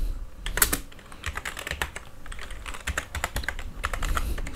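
Rapid clicking of fingers typing on a computer keyboard, close and continuous with uneven bursts of keystrokes and no voices.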